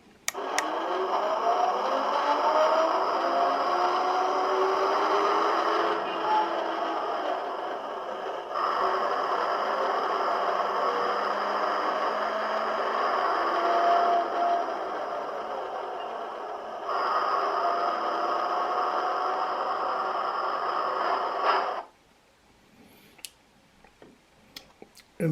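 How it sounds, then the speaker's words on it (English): Hachette Routemaster bus model playing its recorded engine sound effect, a steady mid-pitched running drone with small pitch shifts, fairly quiet and close, cutting off abruptly near the end followed by faint handling clicks. "Here's the engine noise."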